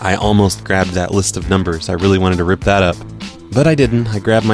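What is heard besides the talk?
No distinct noise like a dog, phone or traffic.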